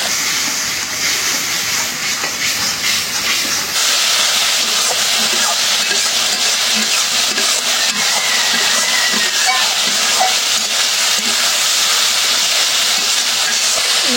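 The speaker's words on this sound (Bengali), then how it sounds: "মশলাটা কষাই নিলাম ভালো করে।" A masala of turmeric, coriander and freshly ground cumin powder sizzles steadily as it is sautéed in a pan, a continuous loud hiss with a brighter, more intense stretch partway through. A voice talks faintly underneath.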